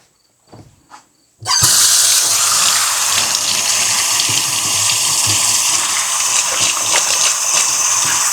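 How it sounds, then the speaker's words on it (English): Running tap water gushes steadily as hands are washed at a kitchen sink, starting abruptly after a brief quiet moment and continuing loud and unbroken to the end. "I'm going to wash my hands."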